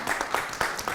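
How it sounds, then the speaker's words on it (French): Audience applause at a panel discussion, a brief burst of scattered claps, moderately faint and irregular in rhythm. "ça mérite quand même des acclamations, non?"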